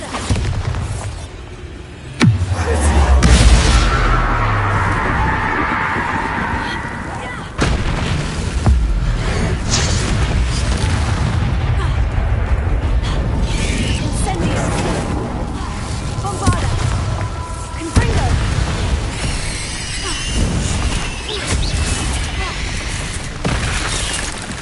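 The Bombarda explosive spell goes off in the Hogwarts Legacy video game: a heavy, close boom early on, followed by further blasts and crashes over a continuous rumbling game soundscape with occasional voices.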